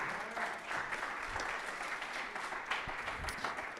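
Conference audience applauding at a Bitcoin event in Medellín, a dense, steady wash of many hands clapping that fills the whole stretch at even loudness, with a faint murmur of voices underneath.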